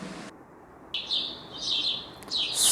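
A sparrow chirps in a quick series of bright, high tweets, several short bursts repeating close to the microphone against a quiet background.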